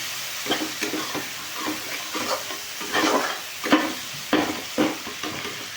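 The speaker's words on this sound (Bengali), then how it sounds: "হলুদ দিয়ে আর একটু কষিয়ে নিচ্ছি মশলাটা" A spice paste with turmeric frying in a pan for egg curry, a close sizzle with repeated scraping stirs of a spatula at an uneven rhythm, no speech.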